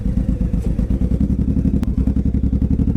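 Suzuki Boulevard C109R 1800 motorcycle with an aftermarket Cobra exhaust idling, a loud, close, deep thumping rumble with a steady loping pulse.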